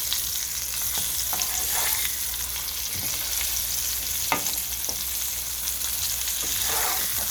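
Slices of green tomato fry steadily in hot oil with a constant close sizzle, and a few soft clicks and scrapes come as the pieces are flipped, with no voices.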